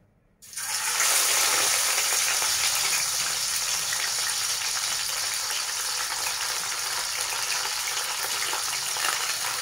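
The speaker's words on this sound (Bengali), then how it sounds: "একটা করে মাছ ভাজছি কারণ তেল চিটকাবে" Pieces of Bhola fish drop into hot oil for a Bengali fish curry, setting off a sudden loud, bright sizzle that starts half a second in and continues steadily and close, with no voices.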